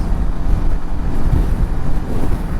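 Strong wind buffets the microphone while riding a motorbike across the Padma Bridge over the Padma River, a loud, rumbling, gusty roar throughout.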